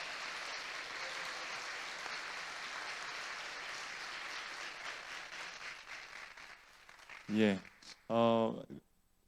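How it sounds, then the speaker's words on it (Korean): A Sunday church congregation applauds to welcome a visiting poet, with broad, sustained clapping that tapers off before someone speaks briefly near the end. "잠깐 일어나시면 우리 박수로 우리 환영하겠습니다."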